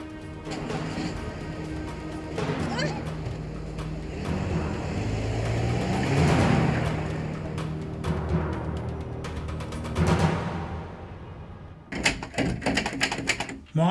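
A car starts off and pulls away in a dramatic street scene, a dense, rumbling engine roar with rattling and clattering noise swelling over about ten seconds before cutting off, followed by a short burst of sharp knocks.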